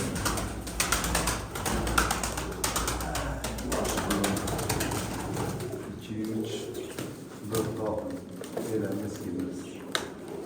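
Mardin breeding pigeons coo in soft repeated calls among rustling and clicking in a coop, while someone speaks over them.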